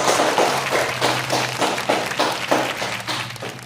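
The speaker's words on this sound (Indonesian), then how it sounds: "Bagus ya, tepuk tangan." Class of students clapping together in a classroom, a rhythmic, fairly loud run of unison claps about twice a second, close and continuous.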